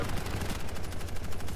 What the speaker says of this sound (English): That's an interesting audio bug. Or maybe he's just constantly a machine gun now.